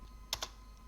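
Two quick keystrokes on a computer keyboard, close and crisp, while entering a Linux command during an Arch Linux install, with quiet room hum between them.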